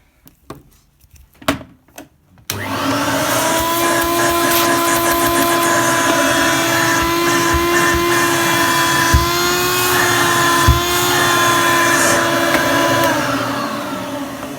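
Hoover Turbomaster vacuum cleaner switching on after a few faint knocks, then a loud steady motor whine with suction roar, close and continuous with slight pitch shifts and a couple of small bumps.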